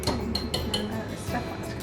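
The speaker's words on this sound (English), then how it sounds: "Just mix in the raisins a little bit." Raisins being stirred into gluten-free bread dough: close, continuous scraping and soft knocking of a utensil in a bowl, with a few light clinks, in a short burst.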